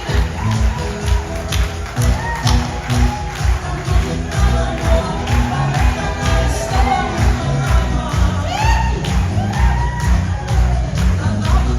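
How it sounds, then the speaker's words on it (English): Large convention audience applauding and cheering for a couple, a dense sustained wash of clapping with whoops and shouts rising over it, loud and continuous throughout. "Please give them a round of applause if they make their way to the room with validation"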